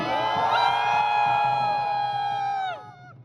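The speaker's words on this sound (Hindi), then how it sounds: "जो टीम ज्यादा चिल्लाएगी वो विनर मानी जाएगी। कौन सी टीम ज्यादा चिल्लाएगी, ए या बी?" A college team shouts and cheers together at full volume in a loud contest, one sustained yell from many voices held for nearly three seconds before dropping off sharply.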